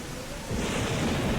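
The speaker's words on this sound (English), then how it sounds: "the island was swept by harsh winds and lashing rain for 3 days straight" A stormy rumble swells partway through, broad and heavy like thunder over dense rain and harsh wind, as a thunderstorm hits an island in the game Paranormasight: The Mermaid's Curse.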